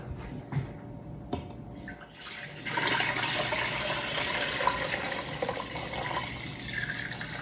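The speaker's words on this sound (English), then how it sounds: "I'm gonna go ahead and fill this water bath with hot water" Hot water from a tap runs into a sous vide water bath, starting with a few knocks and then a steady, close rushing pour that carries on to the end with no talking.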